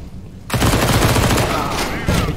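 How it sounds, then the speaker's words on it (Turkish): Dense, loud gunfire in the video game Counter-Strike: Global Offensive, a sustained fusillade of rapid shots that starts abruptly and pounds on with a brief lull, close and overwhelming. "Bir kişiden nasıl o kadar silah sesi geliyor?"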